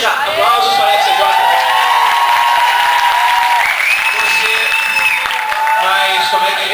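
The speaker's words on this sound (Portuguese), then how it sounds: "Aplausos para a CJ." Audience at a Brazilian game-show stage event applauds and cheers a contestant, steady dense clapping with whoops and shouts filling the whole stretch, loud and close throughout.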